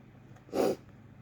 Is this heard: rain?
no